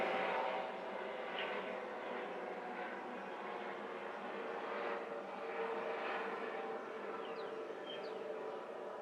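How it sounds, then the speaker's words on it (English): A distant helicopter drones overhead with a steady, muffled rotor hum that holds at a constant level throughout. "Sorry, there's a loud thing outside."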